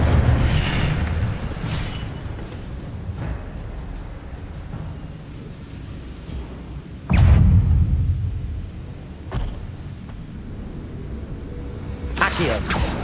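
Spell explosions in the Hogwarts Legacy video game: repeated deep booms and bursts amid combat noise, with one heavy blast standing out midway and another near the end.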